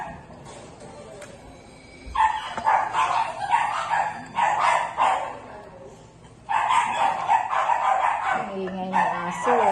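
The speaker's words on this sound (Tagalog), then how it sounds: "Ang ingay ng aso" Dogs bark in bursts around a house during a Filipino house blessing gathering, the barks mixed with people talking nearby.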